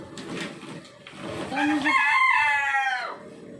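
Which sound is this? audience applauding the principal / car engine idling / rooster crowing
rooster crowing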